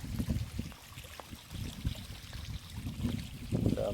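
Rainwater flowing out of a flooded peanut field, a low, uneven gurgling stream heard close and fairly quiet, rising slightly toward the end.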